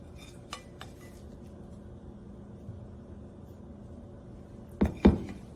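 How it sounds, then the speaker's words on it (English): A utensil scrapes leftover brown sugar bits from a bowl, soft faint scratching with a couple of light clinks, ending in two louder sharp knocks of metal against the bowl. "Scrape any of the brown sugar bits you might have left in the bowl."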